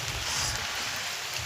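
Rain falls near a canal, a close, even wash of drops hissing without a break and no voices.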